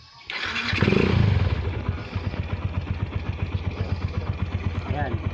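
A Yamaha SZ motorcycle fitted with a Vmax exhaust pipe fires up with a loud burst, then settles into a steady, rhythmic thumping idle close by, with a voice talking over it.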